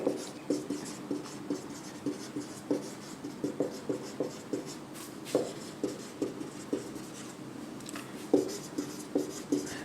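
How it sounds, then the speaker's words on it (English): Chalk or pen writing out a physics question on concave and convex mirrors, heard as a steady series of short scratchy strokes at close range, with no talk over it. "I am going to write the question here, Nana."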